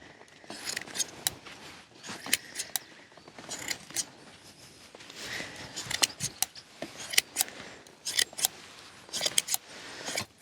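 Shears snip in quick, irregular bursts of sharp metallic clicks and crunches, close and fairly quiet, repeating in clusters with short pauses between them.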